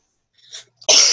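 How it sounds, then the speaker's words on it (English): A single sharp, loud cough bursts out close to the mic after a moment of near silence and a few faint breathy sounds. "Sorry, guys. Coughing."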